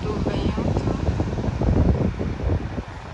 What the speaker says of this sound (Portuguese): pouco do barulho do vento